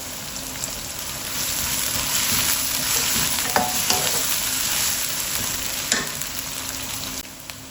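A continuous hissing sizzle of ginger garlic paste frying in a pan, with occasional scraping stirs and small pops, close and steady throughout.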